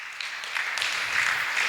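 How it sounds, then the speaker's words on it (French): A group claps together during a church Sunday school class, a steady, moderately loud wash of applause that lasts nearly two seconds and swells slightly toward the end. "on acclame."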